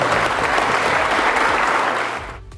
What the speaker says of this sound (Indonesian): Atlet dan ofisial berdiri memberi tepuk tangan panjang